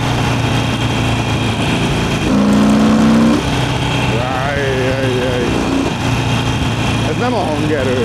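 A 2009 Harley-Davidson Sportster Iron with a street-legal exhaust idles with a steady low rumble while someone talks over it; a brief throttle blip raises the tone midway.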